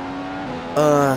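A Formula 1 car engine in the F1 2015 video game at the Belgian GP gives a steady, high, buzzing whine that suddenly steps up louder and higher partway through, with no speech.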